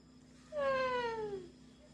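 A voice imitating a cat with a single drawn-out meow, sliding downward in pitch, close and clear over a quiet background.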